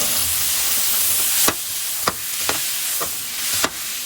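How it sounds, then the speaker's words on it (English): Butter melting in a preheated pan on low heat, a steady close hiss of sizzling with several sharp clicks and scrapes of a utensil stirring at irregular intervals. "So we're gonna melt the butter in the pan."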